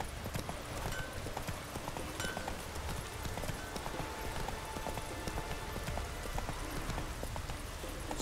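Geralt's horse Roach gallops in The Witcher 3, a steady rapid clip-clop of hooves in a continuous rhythm, close and fairly loud, with game ambience beneath and no voices.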